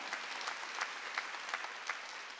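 Church congregation at a Wednesday worship service claps together, a moderate round of applause with a few sharper accents, heard without speech.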